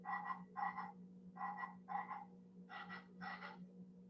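A motion-detector toy frog croaks in six rhythmic double-pulse bursts, evenly spaced and moderately loud, over a steady low electrical hum in an indoor room with no talking.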